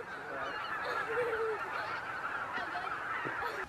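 Thousands of wild geese honk together as they lift off a lake at a nature trail, a dense, continuous chorus of overlapping calls, loud and steady, without talk.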